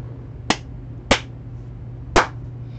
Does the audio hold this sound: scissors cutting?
no